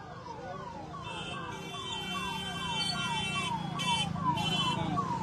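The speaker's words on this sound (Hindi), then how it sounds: "लीजिए, यहाँ एम्बुलेंस आपको दिख रहा है" An ambulance siren wailing in a repeated falling pattern, steady and fairly loud, with a high electronic warble layered over street noise; no talk.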